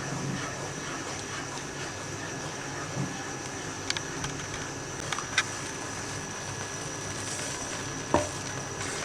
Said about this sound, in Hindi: आप कढ़ाई में ब्रेड के इस पेस्ट को डालें और चूल्हा फुल खोल दें और आपने इसमें मुसलसल चम्मच चलाते रहना है।